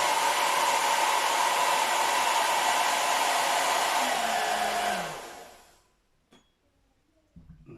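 A hair dryer blows with a loud steady whoosh, then winds down to silence, followed by a couple of faint knocks.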